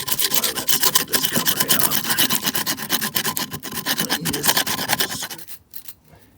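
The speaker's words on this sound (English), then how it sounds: "But I'll just continue scraping along here." A scraper rasps over a painted concrete fountain in rapid repeated strokes, loud and close, for most of the clip before it stops abruptly near the end; no talking.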